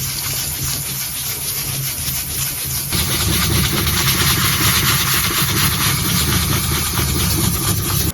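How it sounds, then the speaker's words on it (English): A soapy, wet oven surface is lightly buffed with a steady rubbing and scrubbing hiss that grows louder and denser partway through and continues evenly. "We're going to re-soap it down, make it wet,"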